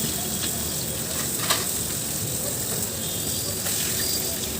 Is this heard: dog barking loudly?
no